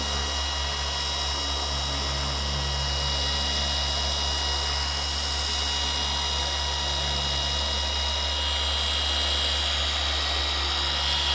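A car polisher spins at 4,400 RPM on the paint of a BMW E36 M3, giving a loud, steady, close-up high whine with a constant low motor drone and no pauses.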